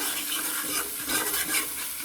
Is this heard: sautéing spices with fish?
yes